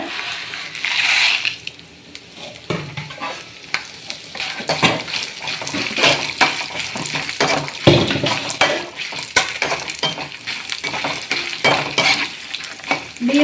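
Chillies, chana dal, coriander seeds and cumin fry together in hot oil while being stirred. A continuous close sizzle runs throughout, broken by frequent scrapes and taps of a spoon against the pan.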